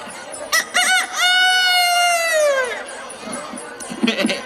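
A human voice mimics a rooster's crow, a long rising-then-falling call after a couple of short bursts, followed by quieter murmuring.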